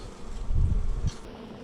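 Honey bees from a new package in Central Texas buzz in a low, steady drone close by, swelling briefly in the middle before settling back.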